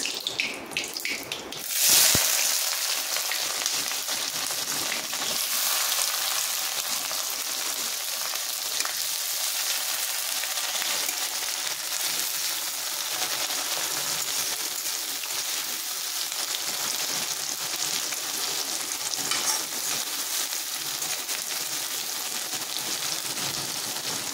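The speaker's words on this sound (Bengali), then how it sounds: "পেঁয়াজটা ভাজার জন্য পরিমাণ মতো লবণ দিয়ে দিলাম।" Chopped onions with salt and a pinch of whole cumin seeds fry in a pan with a continuous, even hiss. A brief clatter near the start gives way to an unbroken sizzle.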